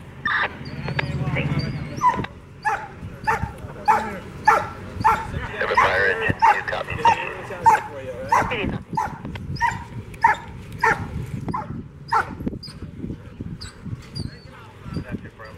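Police K9 at a standoff, barking repeatedly in sharp bursts mixed with high whimpers and yips, close and loud, with people talking and radio chatter underneath.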